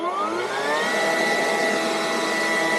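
A 190 mph leaf blower runs at its lowest speed setting on a driveway, a steady whooshing whine close to the listener, rising slightly in pitch as it settles, with no talking.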